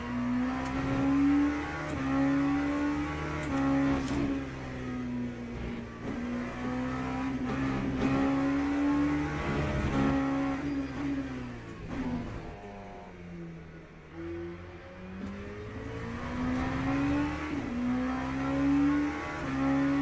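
A race car engine in the Le Mans Ultimate sim roars steadily close up. The pitch rises and falls with revving and gear changes through corners, and no voices are heard.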